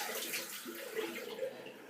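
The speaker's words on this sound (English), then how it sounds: "I've just splashed some water around the edge of my sink." Tap water splashes and runs steadily around the edge of a bathroom sink, close and continuous for a short burst.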